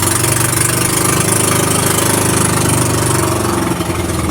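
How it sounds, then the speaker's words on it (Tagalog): The motor of an outrigger fishing boat idles while being tuned, giving a loud, close, continuous low rumble with a steady mechanical throb and a faint knocking texture, and no speech. "Kinukondisyonan ni Kuya Janjan yung kanyang makina."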